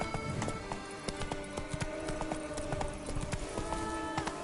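Roach, a horse in The Witcher 3: Blood & Wine, gallops with a fast, steady clip-clop of hooves that stays close and loud from start to finish.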